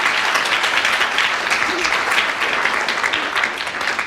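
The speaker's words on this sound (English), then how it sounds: "I think an extra round of applause as well as a bonus point" Studio audience applauding steadily at a BBC radio panel game recording, a dense, even wash of clapping that fills the whole stretch with no talk over it.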